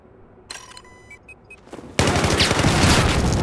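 Heavy automatic gunfire in Battlefield 4 during an Operation Locker close-quarters match, a loud sustained burst of rapid shots bursting in after a short stretch of clicks and faint game noise.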